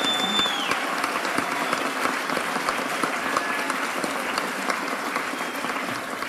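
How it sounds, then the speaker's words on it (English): Sustained applause from a seated crowd at a Fall 2005 commencement ceremony just after degrees are conferred, dense steady clapping filling the hall for several seconds without cheers or whistles. "You can clap."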